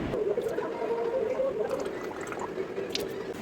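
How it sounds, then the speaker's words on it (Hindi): Someone gargles warm salt water after dinner, a steady bubbling, liquid churn that continues without a break for a few seconds at a close, moderate level. "मुई गार्गेलिंग करूचे एटा गरम पानी लूण पके करी।"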